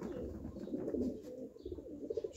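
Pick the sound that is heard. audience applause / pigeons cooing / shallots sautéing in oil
pigeons cooing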